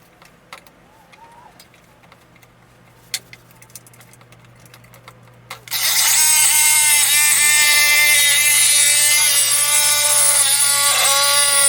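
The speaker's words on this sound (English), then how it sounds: "we went and get the jigsaw so that I can cut the boards out" A jigsaw cuts into a wooden board for a model railroad layout, starting abruptly after quiet handling noises and then buzzing loudly and steadily close by with a harsh rasping whine until the end.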